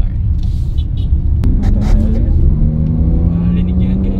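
A Jaguar F-Pace SUV cruising on the road, its engine a low steady rumble with rising tire and drivetrain hum, heard from inside the cabin under ongoing talk.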